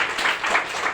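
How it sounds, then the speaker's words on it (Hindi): Brief, dense applause from an audience at a DXN business meeting in Shahjahanpur, a steady wash of clapping filling the whole short moment. "इसके लिए एक जोरदार तालियां।"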